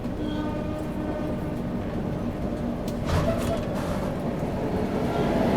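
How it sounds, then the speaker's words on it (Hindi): Karnataka Sampark Kranti Express 12650 pulls out of Ballari Junction, a steady low rumble and rolling drone heard from inside the coach that grows slightly louder toward the end. "डिपार्चर हो गया अपनी ट्रेन का बल्लारी जंक्शन से"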